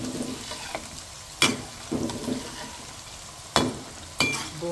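Zinger french fries frying in hot oil give a constant sizzle, broken by a few sharp clacks of a utensil as the fries are turned, with no one speaking.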